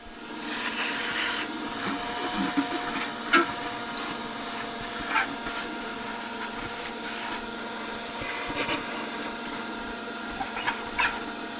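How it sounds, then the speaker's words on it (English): A vacuum cleaner runs with a continuous whirring roar while cleaning out a Traeger Pro Series 22 pellet smoker grill, with occasional bumps and scrapes as the nozzle moves around. "So I'm just going to vacuum it all out"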